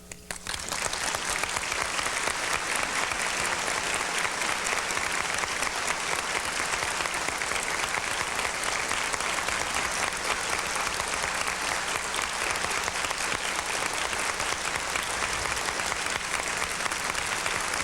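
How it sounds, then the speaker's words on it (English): Banquet audience at a science fiction convention giving sustained farewell applause for author Andre Norton, a dense, loud, unbroken roar of clapping from a large crowd lasting the whole stretch. "we'll give our farewell applause to Andre"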